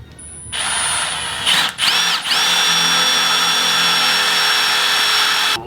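Power drill boring a hole with a step bit during a tucked radiator install, a high steady whine that rises in pitch after two brief stutters, close and loud, running alone.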